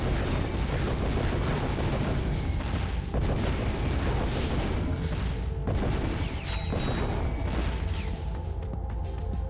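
Lava gun firing in Ratchet and Clank 2, a dense, continuous roaring blast with rumbling booms and crackling bursts, loud and sustained throughout with brief surges and no voices.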